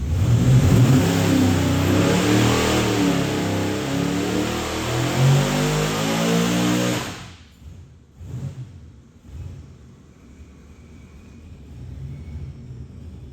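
A car engine revs hard on a dyno pull, a loud, sustained roar lasting about seven seconds before cutting off abruptly, followed by quieter idling and mechanical noise.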